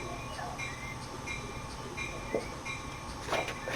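A train runs in Train Sim World 2, giving a faint steady rumble with soft rail clicks and occasional brief knocks, low in level throughout.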